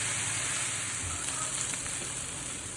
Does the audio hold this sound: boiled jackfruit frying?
yes